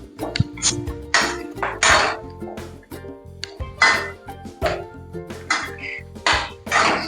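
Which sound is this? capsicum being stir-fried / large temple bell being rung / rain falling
capsicum being stir-fried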